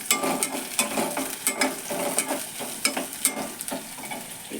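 Onion and green chillies fry in a pan with a continuous sizzle, broken by regular scraping strokes of a spatula; no voices.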